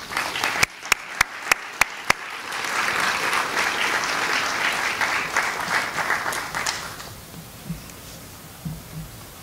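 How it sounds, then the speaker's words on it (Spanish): At an academic symposium in Puerto Rico, a few sharp separate claps open into full audience applause, which then thins to scattered claps and fades out. "Un aplauso."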